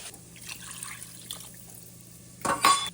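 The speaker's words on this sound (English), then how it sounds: "Last step here is we're gonna add 2 cups of water." Two cups of water pour from a faucet-like stream into a pot of potatoes and seasonings, a soft steady trickle that swells into a louder splashing rush near the end.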